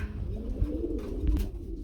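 Soft, low cooing of a pigeon, repeated a couple of times, fairly close with faint background noise and no talking.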